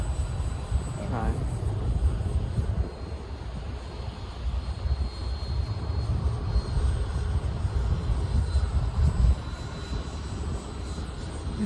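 An E-flite Habu STS radio-controlled plane flies figure eights, its electric ducted-fan whine steady and fairly distant across the sky, rising and fading slightly with each pass against outdoor wind rumble.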